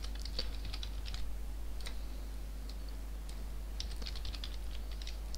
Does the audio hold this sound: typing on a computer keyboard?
yes